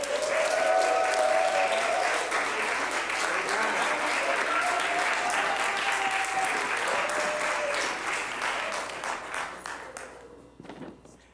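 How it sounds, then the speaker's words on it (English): Sustained applause from a church congregation during a Sunday service, steady and full for about ten seconds before thinning out and tapering off at the end, with faint voices mixed in. "let's give him one more round of applause."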